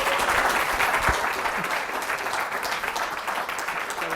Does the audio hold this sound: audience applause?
yes